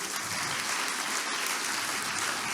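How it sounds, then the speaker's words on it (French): An audience applauds two speakers at the end of a political debate with dense, steady clapping that fills the room at an even level throughout. "Je pense qu'on peut applaudir très chaleureusement nos 2 intervenants."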